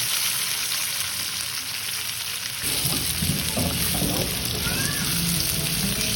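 Chopped tomatoes hit a pan of sautéed garlic and onion in a home Filipino breakfast dish; a steady hiss turns into a louder, busier wet sizzle and bubbling once the tomatoes go in, close and continuous.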